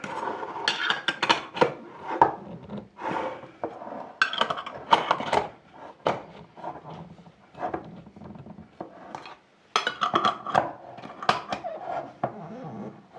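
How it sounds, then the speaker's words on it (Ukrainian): Metal lids are screwed tightly onto small glass jars of homemade liver pâté, giving a series of close, clattering scrapes and clinks of metal on glass in irregular bursts, with no talking. "Закручую герметично кришками."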